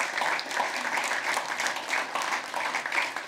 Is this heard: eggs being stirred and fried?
no